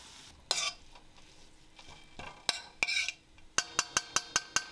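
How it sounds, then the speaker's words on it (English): Kale and leftover shallots sauté in a pan, a low sizzle broken by sharp utensil clacks against the pan, ending in a quick run of evenly spaced taps. "Just gonna throw in my kale here, as well as some shallots that I had left over from something else, and we are going to just saute this up until they are wilted."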